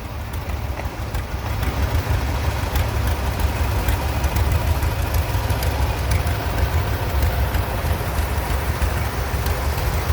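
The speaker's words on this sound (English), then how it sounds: "The 1969 Case Model 830, also owned by Joshua Pollitt." A 1969 Case Model 830 antique tractor runs in a parade, a steady, loud low engine chug close by that stays constant throughout, with no talk.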